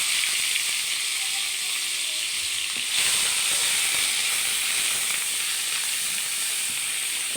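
Ground onion paste sizzling in hot oil left over from frying katla fish, a loud steady hiss with a brief surge partway through as the paste hits the pan.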